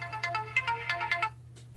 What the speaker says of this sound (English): The worst thing that can happen to a person is having their phone ring.